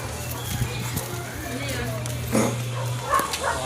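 A dog barks a few times amid close, ongoing conversation, with some background noise.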